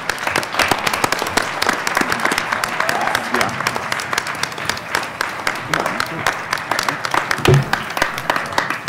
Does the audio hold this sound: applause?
yes